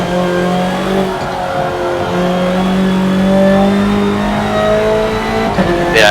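A race car engine revving toward a 9,000 rpm redline, a loud continuous droning note whose pitch rises and falls slightly, heard alone with no talk.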